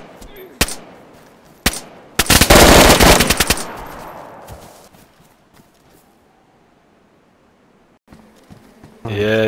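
Video game gunfire: a couple of single shots, then a dense burst of rapid automatic fire lasting about a second, fading into quieter ambience with another short burst at the end.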